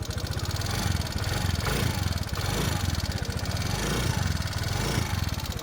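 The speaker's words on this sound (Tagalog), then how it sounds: "May lagatik po itong motor na ito." A small Yamaha Mio Soul motor scooter engine idling with a rapid, regular knocking tick, close up and continuous.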